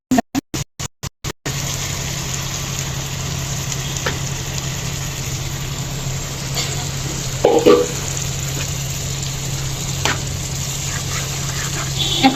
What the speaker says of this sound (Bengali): এখন এটা সুন্দর করে নেড়েছে একদম শুকনা শুকনা করে নিব, আমি শুকিয়ে নিব একদম।